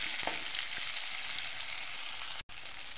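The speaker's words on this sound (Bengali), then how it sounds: "পেঁয়াজের টুকরো রেখেছি, এগুলো দিয়ে দেবো। লাল লাল করে ভাজবো না, সাধারণভাবে ভাজবো।" Onion pieces fry in a pan with a continuous, even sizzle, close and steady throughout, broken only by a momentary dropout near the end.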